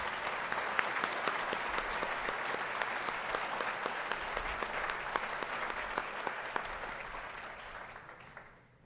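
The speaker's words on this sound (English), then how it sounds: "Please welcome, recognize them with a round of applause." Sustained applause from a conference audience of mathematics educators, steady dense clapping throughout at moderate distance, fading out near the end.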